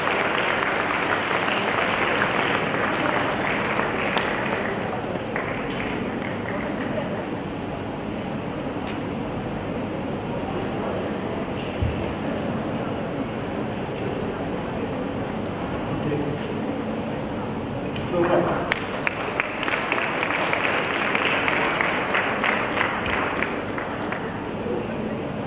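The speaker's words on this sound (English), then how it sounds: "A huge round of applause for sir." Large audience applause for a guest lecturer at a medical conference at Osmania Medical College, a dense, steady roar of clapping that swells near the end and continues throughout.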